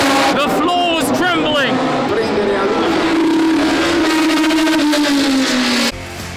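Historic race cars at the Monaco Historic Grand Prix roar past nearby, very loud, with an engine note that climbs and shifts as they accelerate and a sustained howl that cuts off near the end.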